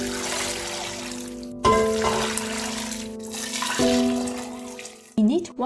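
Vegetable stock pours into a soup pot holding soya beans, tofu skin, carrot, daikon, shiitake mushrooms and potatoes, a close gurgling stream in several bursts with short pauses between them.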